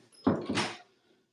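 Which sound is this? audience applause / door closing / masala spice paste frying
door closing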